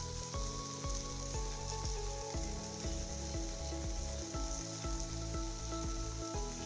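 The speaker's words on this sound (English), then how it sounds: "So I just like to constantly stir this and try to get some of this flavor we left behind on the bottom of the skillet here." Food, likely onions cooked until translucent, sizzles in a skillet as it is stirred constantly and scraped off the bottom; a soft even frying hiss carries under a steady background of tonal music.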